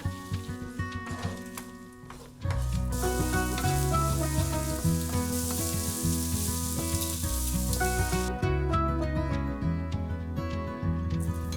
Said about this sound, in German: Rührei braten.